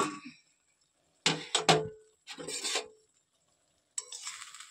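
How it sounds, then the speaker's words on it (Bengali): A spoon stirs muri ghonto, a Bengali rice and fish-head dish, in a pan, making a few short scraping, clinking strokes separated by silence, close and moderately loud. "হালকাভাবে নেড়ে নিচ্ছি।"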